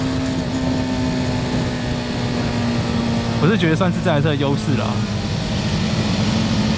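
A BMW G310R motorcycle engine hums steadily while being ridden on a mountain road. The note stays constant throughout, with someone talking over it in the foreground.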